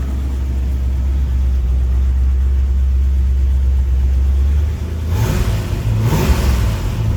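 A car engine fitted with a swapped 5-speed gearbox runs at a steady, close rumble in the rain, then revs up sharply near the end with a couple of rising bursts.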